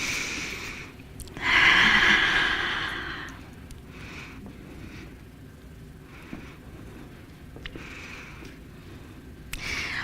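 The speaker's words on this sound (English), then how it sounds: "let's take a breath together" A group of people take a deep breath together: one loud, drawn-out inhale that fades into a quiet exhale, followed by soft room noise.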